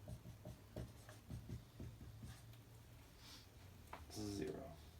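During a calculus lecture, someone writes on a board in a run of short taps and strokes. The writing sounds faint and is mixed with quiet room noise, and a voice is heard briefly near the end.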